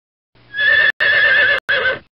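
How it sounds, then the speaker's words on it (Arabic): A horse neighs loudly and close, one long whinny broken into three bursts by brief gaps, with no other sounds around it. "حصان."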